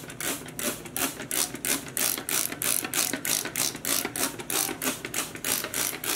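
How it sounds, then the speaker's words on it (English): A hand spray bottle sprays vinegar over yarn in a dye pot. The trigger squirts come in a quick, steady rhythm of sharp hissing bursts, close and clear. "right here I have a spray bottle with vinegar"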